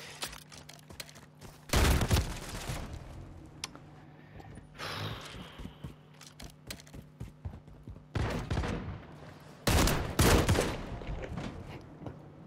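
Bursts of video game gunfire in a 1v1 match, with two loud volleys and scattered sharper shots in between, fairly close and without talk over them.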